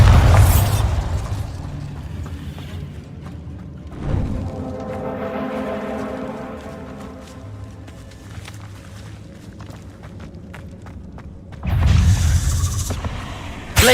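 Bombarda spell in Hogwarts Legacy blasting with a loud booming burst at the start, a quieter thud mid-way, then a second heavy explosion near the end, separated by a lingering resonant hum.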